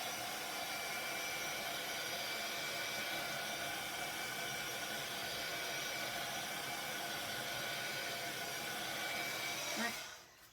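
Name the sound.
heat gun drying craft paint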